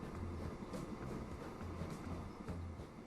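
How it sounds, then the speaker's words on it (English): A train running in the video game Transport Fever 2, a steady rumbling roll with faint rhythmic clacks over a continuous low drone, moderately quiet and without speech. "So we're gonna drive with this train."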